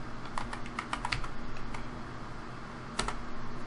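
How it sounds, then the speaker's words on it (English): Keys clatter on a computer keyboard, a quick burst of taps early on, then a pause and a few more strokes near the end, close and clear over a steady low hum. "just tap the Windows key, type folder options"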